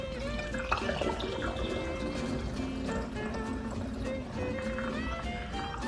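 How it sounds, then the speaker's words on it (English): Liquid poured through a funnel into glass spray bottles, a steady continuous trickle and fill with faint clinks and rising tones as the bottle fills, running throughout at close range. "So just gonna take my funnel and pour it in until it's full."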